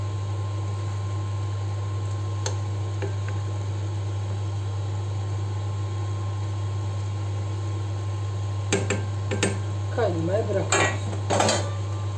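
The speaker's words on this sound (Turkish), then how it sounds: "Böyle şöyle sonra şöyle bir karıştırıyoruz" Green lentil and chard stew stirred in a pot over a steady low hum, with a few scattered clinks and then a cluster of spoon scrapes and pot clatter near the end.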